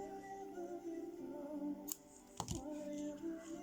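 Scissors snip through crochet yarn while a bracelet is being made, giving two sharp, close snips about half a second apart over a quiet room, with no talk.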